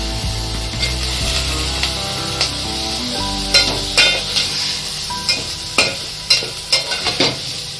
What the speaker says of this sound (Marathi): हे सुद्धा आपण तेलावर मारतोय